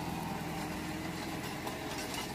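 A tractor engine idles out on a large farm field, a steady rumbling drone with constant vibration, close and fairly loud with no voices.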